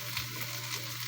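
Vegetables sauté in a hot pan with a steady, dense sizzle that holds at an even level from start to finish, close and continuous, with no voices over it.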